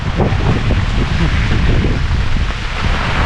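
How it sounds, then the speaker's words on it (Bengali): Strong storm wind with rain buffets a microphone on a fishing boat at sea near the Andaman Islands, a dense, continuous roar that stays loud throughout. "করার নাই হাওয়া তুফান একবারে"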